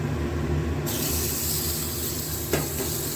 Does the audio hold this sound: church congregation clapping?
no